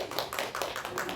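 Quick patter of applause from a church congregation at a Sunday worship service, dense and steady for about a second with no voices over it.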